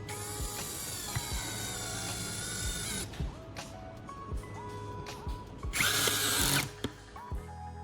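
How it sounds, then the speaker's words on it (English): An electric screwdriver drives screws into a wooden block to fix a metal bracket, with a steady motor whine, a ratcheting burst near the end and small clicks between runs, close up and without speech. "use an electric screwdriver to secure it firmly with screws"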